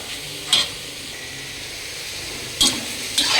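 Pork neck sizzles steadily in a pan for a banana stem curry, a constant hiss broken by a few short scraping stirs near the start and end.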